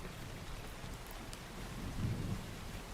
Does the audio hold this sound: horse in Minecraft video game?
no